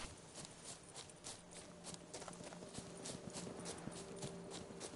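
Steady clip-clop of Geralt's horse Roach travelling a road in The Witcher 3: Wild Hunt, even rhythmic hoofbeats repeating throughout at moderate distance over a low ambient game backdrop.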